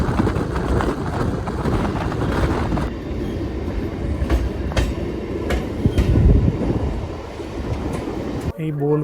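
A local train on the Kolkata to Bolpur line pulls out of Bolpur station with a steady, loud rumble of wheels and carriages, rhythmic clacks and faint squeals, heard from inside with a voice talking over it.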